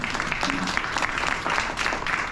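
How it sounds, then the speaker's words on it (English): An audience at a community event for a school charity claps warmly, a continuous dense round of applause, close and steady throughout with no talk over it. "A big applause for all of them."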